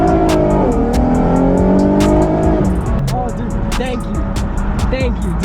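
A car fitted with a Motordyne Art Pipes exhaust accelerates hard, its loud engine note climbing steadily and then dropping into a rougher idle-like burble with sharp crackles, heard up close.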